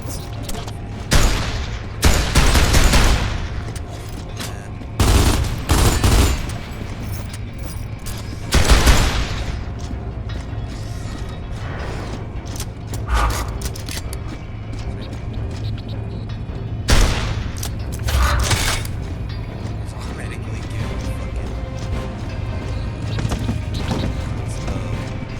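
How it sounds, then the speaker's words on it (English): Gunfire and grenade blasts in Gears of War 2: repeated loud booms and crashing bursts scattered through the stretch, with quieter mechanical game noise between them. "this is to show y'all that I have got infinite ammo. I got infinite grenades."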